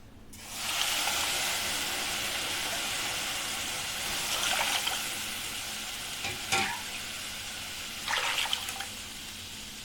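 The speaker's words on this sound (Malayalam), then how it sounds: "ഇനി ഇതിലേക്ക് നമുക്ക് വെള്ളം ഒഴിച്ചു കൊടുക്കാം." Water poured into roasted oats in a hot pan gives a loud, steady hiss and sizzle throughout, with a few brief splashy bursts from stirring along the way.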